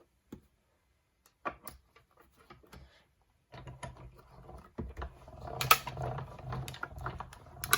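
Card stock fed through a die-cutting machine for a poinsettia petal Christmas card, heard as a steady mechanical grinding and ratcheting crank with clicks that builds louder over several seconds after a few quiet taps.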